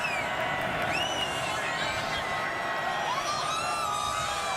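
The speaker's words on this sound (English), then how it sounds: "It's a friendly crowd." A large stadium crowd at the Army–Navy college football game roars and whoops continuously in a steady, dense wash of cheering, with scattered high shouts rising above it and talk faintly beneath.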